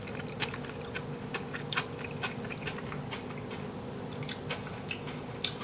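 Quiet, crunchy chewing of pickled carrot, celery and cauliflower giardiniera up close, a steady run of crisp bites and crackles over a soft background hiss, with no voices.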